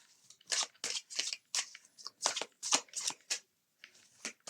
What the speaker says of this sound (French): Je ressens de bien battre les cartes, de bien mélanger.